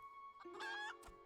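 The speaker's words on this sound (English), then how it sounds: "The chicken." A chicken in Final Fantasy XIV gives a short cluck, then a brief squawking call, close and clear over a faint ambient game hum.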